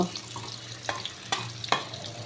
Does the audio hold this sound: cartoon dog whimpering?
no